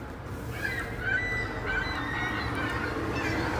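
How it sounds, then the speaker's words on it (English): Seagulls call with thin, high squawks and honking cries, several in a row at moderate distance, over a steady low background rumble. "Seagulls are noisy."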